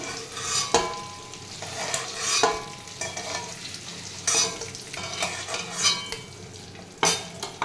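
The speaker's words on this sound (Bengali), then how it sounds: "ওই তেলের মধ্যে দিয়ে দিচ্ছি তেজপাতা শুকনো লঙ্কা আর সাদা জিরে" Bay leaf, dried red chilli and cumin seeds hit hot oil, crackling and sizzling up close with bursts of sharp spitting and occasional stirring clinks from a pan.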